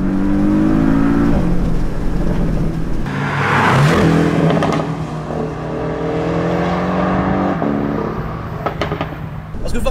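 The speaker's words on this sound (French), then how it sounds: "c'est les pétarades à l'échappement. Écoutez, si j'accélère un peu" A Porsche 718 Boxster S convertible with a four-cylinder engine accelerates, its engine note rising loudly and steadily, broken by a few sharp exhaust pops and crackles.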